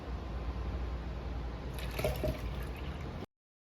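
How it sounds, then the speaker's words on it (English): Honey-water mead must is poured slowly into a yeast starter, a soft steady trickle of liquid close by with a brief splashier patch before it cuts to silence. "we're slowly adding some of the honey water mixture to that yeast"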